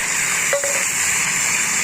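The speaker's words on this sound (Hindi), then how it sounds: "पानी डाल लो एकदम अच्छा से, इसको मतलब अच्छा से मिला दो" Water poured into fried masala for a jackfruit curry gives a steady gushing, splashing rush that runs through the whole short stretch, close and fairly loud with no talking.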